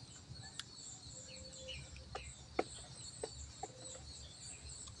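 Chickens and other birds on a countryside farm call out in scattered chirps and short clucks over a steady low outdoor rumble, the calls faint to moderate and spread across the scene.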